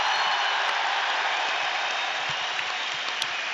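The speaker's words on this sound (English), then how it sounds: "listen to the applause, the cheers" A large crowd of Celtic football fans applauds continuously at a stadium lap of honour after a match against Inverness CT, a dense roar of clapping and cheering, loud and sustained throughout.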